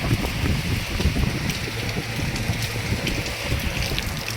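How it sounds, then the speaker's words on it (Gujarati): Steady rain patters and hisses without pause, with a dense wash of drops and low rumbling underneath. "સોટા ચાલુ વરસાદ બહુ ચાલુ"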